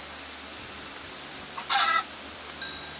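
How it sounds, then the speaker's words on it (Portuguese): A chicken in the Minecraft video game gives a couple of brief clucks, one short burst near the middle and a fainter one after, over a quiet hiss. "Ai, tem uma galinha."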